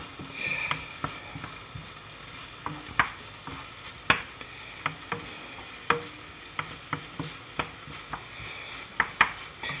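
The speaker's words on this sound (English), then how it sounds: "Over here, sizzle, sizzle, sizzle." Rice noodles and pepper frying in a hot pan, a quiet steady sizzle broken by frequent sharp clicks and taps of a utensil stirring against the pan.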